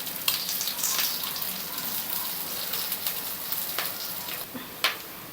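Onions and curry leaves fry in hot oil, crackling with a dense, steady sizzle and scattered sharp pops close by.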